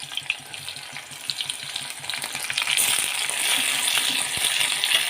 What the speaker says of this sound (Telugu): ఉల్లిపాయలు అయితే వేగుతున్నాయి